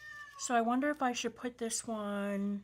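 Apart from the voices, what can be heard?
pet cat meowing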